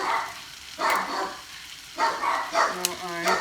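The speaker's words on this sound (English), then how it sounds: "the dogs are barking as usual when I make something" Dogs bark in short bursts in a home kitchen while sauce is being cooked, the barks moderately close and mixed with a person speaking.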